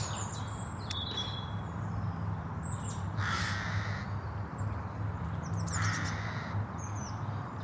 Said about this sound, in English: just listening to the birds